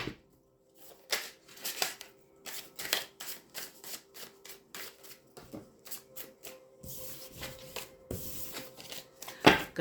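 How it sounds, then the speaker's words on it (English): Shuffling of a new, slippery deck of cards during a tarot-style reading: a steady run of quick riffling bursts, close and fairly soft, with no one talking. "Two shuffles."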